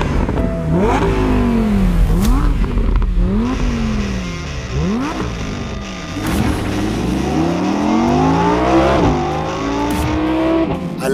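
A second-generation Audi R8 revs hard on the move, its engine climbing and dropping through repeated gear changes, loud and close with no talk.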